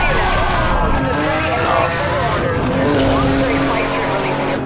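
A car roars at high speed on a turbo boost in Need For Speed Hot Pursuit Remastered, with a loud, sustained, rising engine whine over rushing road noise and faint tire squeal.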